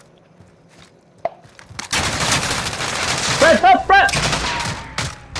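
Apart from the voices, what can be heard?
gunshots hitting a riot shield in a video game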